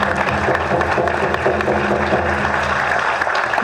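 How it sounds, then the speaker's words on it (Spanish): Sustained, dense applause fills a legislative commission session, steady and fairly loud from a room full of people, with faint voices underneath. "Y un fuerte aplauso a Consuelo Sánchez, constituyente."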